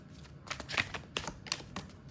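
Tarot cards drawn one by one from a deck, giving crisp close-up flicks and slides in a quick uneven run of light clicks, with no voice.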